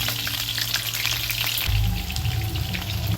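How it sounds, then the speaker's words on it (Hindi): Chopped onions fry in oil in a pan for a keema dish, a steady close sizzle with crackling bubbles that thickens into a deeper, fuller hiss partway through as they are stirred. "फिर इसे अच्छे से फ्राई कर लेंगे।"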